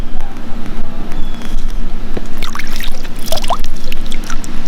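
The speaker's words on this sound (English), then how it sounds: "And just splash a little bit of water out on both sides." Pool water splashes out of a chlorine and pH test comparator in a salt water pool, giving a few wet splashes and trickles over steady outdoor background noise.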